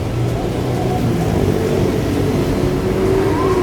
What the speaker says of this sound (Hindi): जो आवाज़ है बस गाड़ियों की है।